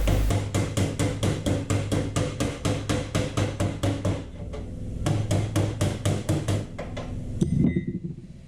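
Hammer repeatedly tapping a dented metal car body panel during body repair, a fast steady series of sharp metallic knocks that slows and thins out toward the end, close and alone.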